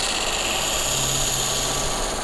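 A buffing wheel spins steadily, polishing a sanded guitar back plate cover loaded with compound, giving a loud continuous motor whine and roar throughout with no speech.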